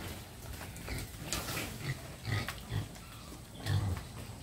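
Pigs on a farm grunting and oinking: several short, low grunts in an uneven sequence, fairly close, over a faint rustling background.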